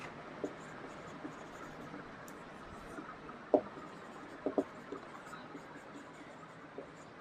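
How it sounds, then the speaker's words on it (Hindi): A pen writing sentences by hand on paper, faint scratchy strokes with a few sharper taps and clicks over a quiet room background. "तो अभी मैं कुछ सेंटेंस में लिख रहा हूँ"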